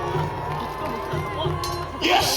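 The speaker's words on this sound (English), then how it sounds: "Give him a cheer." A crowd of spectators cheers and shouts at a Battle of Hastings reenactment during a solo combat between mounted champion Taillefer and a Saxon warrior, with steady outdoor roar and voices mixed in, swelling near the end.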